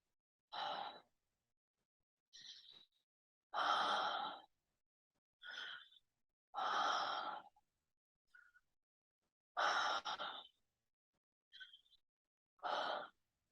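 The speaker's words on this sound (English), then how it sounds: "deepening that inhale" Deep breaths during a guided breath work session, eight or so long, airy inhales and exhales spaced a second or two apart in near silence, close and clear with no talking.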